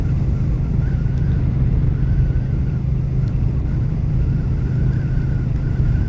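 Royal Enfield Meteor 350 motorcycle cruising along a relaxed road, a steady low engine thrum blended with wind rush, no voices.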